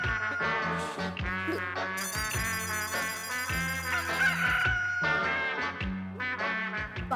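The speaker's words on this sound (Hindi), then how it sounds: "लगता है मुर्गा घर में घुस गया है" A bird honks and crows in loud, repeated bursts indoors inside a house, harsh harmonic calls with brief gaps between them, alone without speech.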